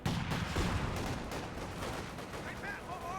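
A large grenade explosion in the World War II strategy game Company of Heroes 2, a dense roaring blast with rumbling battlefield gunfire continuing throughout at steady loudness.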